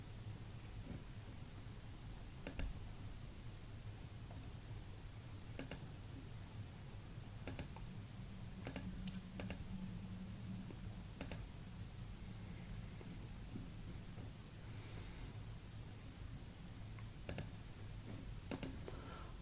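Sparse, faint computer mouse clicks, single and double taps at irregular intervals, over a quiet background hiss.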